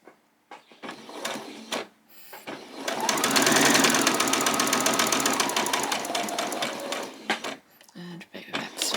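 A sewing machine stitches fabric for a doll's skirt in one sustained, loud, close whirring run of several seconds, with brief handling sounds and light voice before and after.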